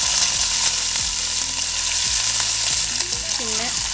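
Curry leaves sizzling in hot coconut oil with mustard seeds and green chilies, a loud, close, continuous frying hiss with bursts of crackle and spoon-stirring scrapes, no voices.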